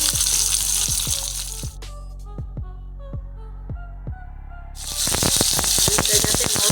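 Potatoes go into hot oil in a wok with whole bay leaf, panch phoron and onion. A loud broad sizzle drops away into a quieter stretch of scattered clicks and pops, then surges back to a strong, crackling fry.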